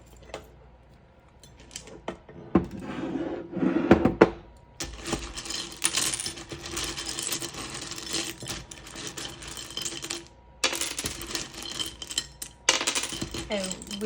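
Small tiles, charms and dice clatter and rattle as they are shaken and cast onto a surface for a reading, with several close bursts of hard clicking separated by brief pauses.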